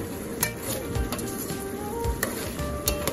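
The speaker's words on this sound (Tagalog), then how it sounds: "halu-haluin na natin" Chicken adobo with potatoes sizzling in a pan, a close, steady frying hiss broken by a few brief scrapes and clicks of a utensil stirring through the pieces.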